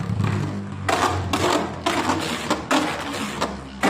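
A Beyblade Burst Quad Drive top, Wraith Fafnir F7 or Berserk Linwyrm L7, whirs and scrapes in a stadium after launch, with rhythmic bursts of rasping contact as it spins close by.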